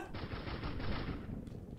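Rapid pistol gunfire from a blocky Minecraft-style video game, a dense continuous burst of loud shots lasting well over a second with no talk over it.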